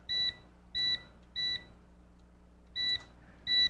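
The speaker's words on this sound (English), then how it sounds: "Let me set the timer for 15 minutes here" A kitchen timer gives five short, bright electronic beeps at uneven intervals as it is set. The beeps are close and loud over a quiet room.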